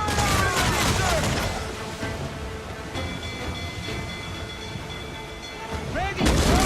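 Ship cannons fire in a naval battle against a Spanish man-of-war in Assassin's Creed IV Black Flag: a dense, heavy volley of booming blasts at the start, a rumbling lull, then another loud cannon burst at the end.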